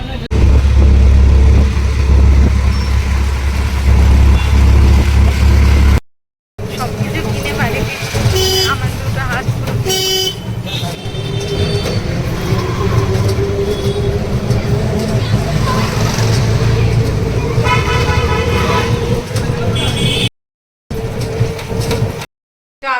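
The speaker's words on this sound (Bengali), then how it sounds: "একই রাস্তায় ট্রামও চলছে অটোও চলছে" Busy Kolkata street traffic, with auto-rickshaws and a tram sharing the road, rumbles continuously as car horns toot repeatedly nearby, and people talk over the din.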